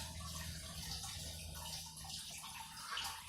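Gasoline drains from the fuel pump of a 2004 Dodge Ram with a 5.7L engine, a faint, continuous trickle of running liquid heard close by with no talking.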